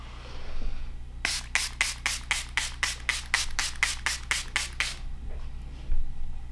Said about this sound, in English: Okay, last is setting spray.